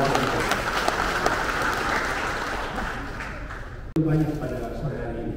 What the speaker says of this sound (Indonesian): Tepuk tangan untuk Ketua Ormas.